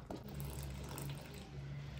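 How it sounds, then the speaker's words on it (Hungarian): Lukewarm water is poured steadily into pasta dough for ravioli, making a continuous close trickling and splashing wash over a low background hum. "Adagoljuk hozzá folyamatosan a vizet."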